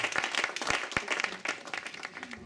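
A church congregation claps together during a worship service, giving dense, irregular hand claps close by that carry on steadily throughout.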